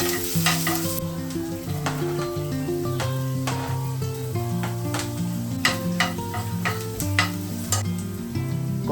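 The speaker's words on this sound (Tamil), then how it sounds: "Next onion, capsicum, green chilli 3மே போட்டு நல்லா வதக்கிக்கலாம்." Onion, capsicum and green chilies sautéing in butter and oil crackle loudly and close, a continuous sizzle with frequent popping spatters and the scrape of stirring, no talk.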